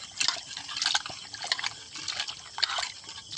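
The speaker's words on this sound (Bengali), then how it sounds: "ভালো করে চটকে ধুয়ে নেব" Fish, potatoes and pointed gourd being washed by hand in water, with repeated wet squelching and splashing in irregular bursts, close and fairly quiet.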